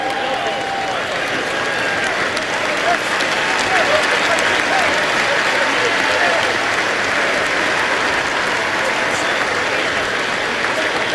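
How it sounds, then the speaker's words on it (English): Sustained applause and cheering from a large crowd fill a football stadium in Minneapolis on a hot day, a dense, even roar of clapping that carries on without a break. "Howley says thanks for the cheers and the applause"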